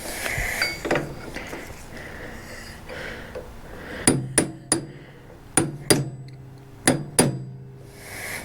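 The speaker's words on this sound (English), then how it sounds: "Little hammer." Small hammer tapping on a metal part of an Ariens ST824 snow thrower, about eight sharp ringing strikes in small clusters, close and loud after quieter handling noise.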